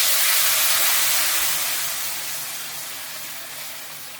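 Kadhi batter hits a hot pan of tempering with fenugreek and curry leaves, giving a loud, broad sizzle that fades slowly as it settles.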